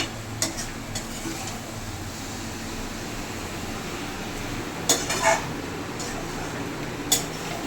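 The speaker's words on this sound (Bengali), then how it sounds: "এখন কিন্তু আমাদের মাংস রান্নার প্রস্তুতি চলছে" A meat curry cooks in a pot while being stirred, a close, steady sizzle and bubbling hiss with occasional scrapes and clinks of a utensil against metal, no talk.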